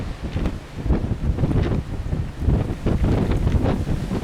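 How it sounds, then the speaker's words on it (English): Strong gusting wind buffets the microphone outdoors, a loud rumbling roar that surges and eases in repeated bursts with no voice. "Very windy out here today."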